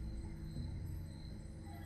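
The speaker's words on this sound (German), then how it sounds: "Dieser alte Signalturm summt noch immer vor Energie." An old signal tower in StarCraft 2 hums with energy, a steady low electrical drone with a faint buzzing texture, constant and unbroken with no speech.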